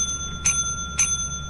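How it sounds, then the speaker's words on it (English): A bell in the video game Lethal Company rings three times: bright, short metallic dings spaced about half a second apart over a faint low background hum, with no talking. "Ring the bell"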